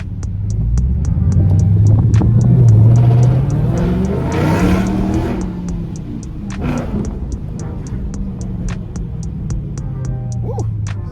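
Dodge Scat Pack pulling away on a drive, its engine rising through the gears with loud low-pitched revving that swells and drops, joined by a steady ticking turn-signal-like click throughout.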